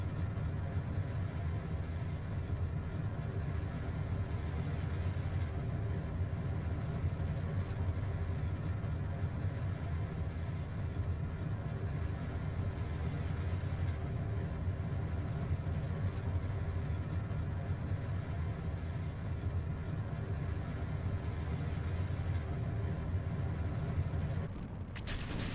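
Rocket engines roar in Kerbal Space Program, a continuous, loud, low rumbling thrust that holds steady for the whole stretch and then cuts off abruptly near the end.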